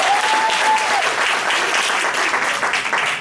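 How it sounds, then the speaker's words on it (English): A room of attendees at a fundraising academy session breaks into dense, steady applause that fills the whole moment, loud and close with no pauses. "another big round of applause for everybody"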